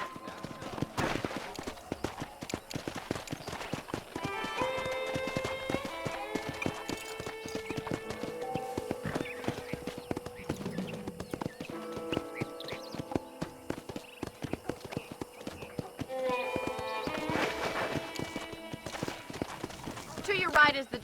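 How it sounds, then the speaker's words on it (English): Horse hooves clip-clop steadily through a Red Dead Redemption ranch scene, with a neigh or whinny and a voice talking over the ride alongside a game soundtrack. "I picked out a fine horse for you. Giddy up!"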